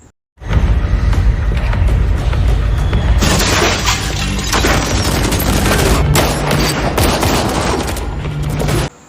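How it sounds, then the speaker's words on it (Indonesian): Gunfire in a movie shootout, a loud continuous barrage of rapid shots mixed with shattering and booming impacts that runs dense and unbroken for about eight seconds after a brief silence. "Setelah itu terjadi baku tembak antara anak buah Cleo dan mereka."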